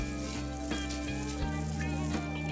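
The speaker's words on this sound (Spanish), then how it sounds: "En otra sartén vamos a poner la mantequilla, vamos a esperar a que se derrita" Butter melts in a frying pan over medium-low heat, giving a soft, steady sizzle with faint crackles, quiet and continuous.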